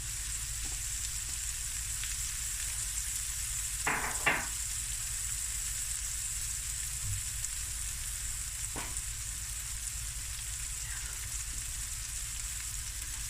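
Cooked Spekko rice, about three cups, stir-fried in a pan, giving a steady close sizzle with a few brief scraping stirs near the start and middle.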